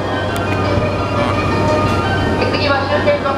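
A steady rumbling sleeper express train departing, a JR 285 series Sunrise Seto and Sunrise Izumo bound for Tokyo on the Tokaido Line, continuous and fairly loud, with a faint high tone and some clatter along the way.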